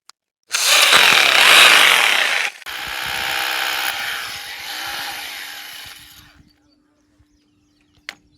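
A loud power drill whirs steadily for about two seconds, then keeps grinding at a slightly lower pitch before cutting off, with a faint click afterward, drilling an 8 mm hole for a wall plug.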